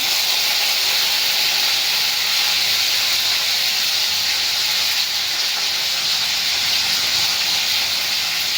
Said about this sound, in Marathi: मोहरी तडतडली की टाकायचा कढीपत्ता